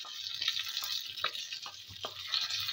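Curry leaves and dried chillies hit hot oil for shukto, giving a bright, steady sizzle close by with small popping crackles and stirring scrapes throughout.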